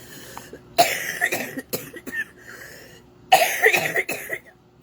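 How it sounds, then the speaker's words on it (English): Two bursts of harsh, phlegmy coughing from one person nearby, each a quick cluster of several coughs separated by a short pause. "Sometimes you just have to cough and get it out."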